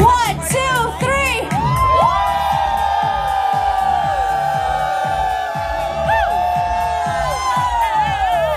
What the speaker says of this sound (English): we'll all scream together just loud as you can